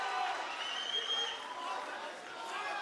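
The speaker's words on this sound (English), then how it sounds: "The crowd erupting." A dense arena crowd roars at an MMA fight night between Pakistan and Iran, a steady wash of cheering and chatter with voices mixed in, holding a fairly even loudness throughout.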